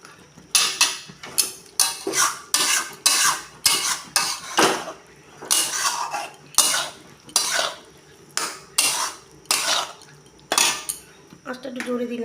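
A spoon scrapes and clatters repeatedly against a pan while soybean rezala is stirred with ghee, in a steady rhythm of loud, close strokes separated by brief pauses, with a faint sizzle underneath.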